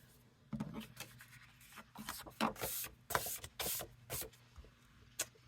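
Paper piece being scored for an accordion fold card, a series of faint close scraping and rubbing strokes, irregular short bursts with quiet gaps between them.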